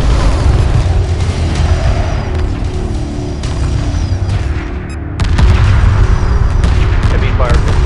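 Heavy weapons fire in a Homeworld 2 space battle: a dense, continuous barrage of booming blasts and rumbling impacts, loud and sustained, with a brief dip before the firing surges back even harder.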